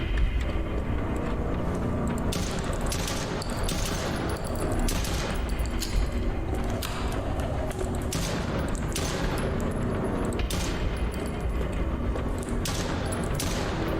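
Rapid gunfire rattles through a horror video game, dense bursts of shots layered over a loud, constant background of game noise for the whole stretch.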